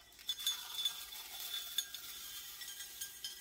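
Potting soil being stirred and mixed in a makeshift bowl, giving soft gritty scraping with small clinking taps, fairly quiet and close, with no voices.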